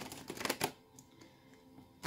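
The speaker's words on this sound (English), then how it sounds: "Shuffle that in." Tarot cards shuffled by hand during a card reading, heard as a quick burst of crisp riffling and flicking in the first half-second, then scattered light taps and clicks in near silence.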